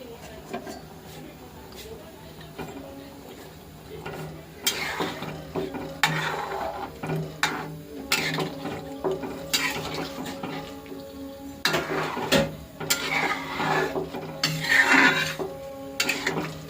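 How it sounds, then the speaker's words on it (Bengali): Fish pieces go into a simmering curry pan and get stirred, with intermittent scraping, clinking of a spoon against metal and bubbling, interrupted by someone talking. "এখন মাছগুলো দিয়ে দিচ্ছি"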